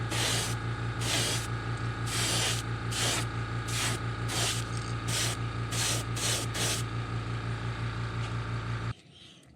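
Airbrush hissing paint onto a crawfish-style fishing lure in a series of short, close bursts of varying length over a steady low compressor hum, ending abruptly.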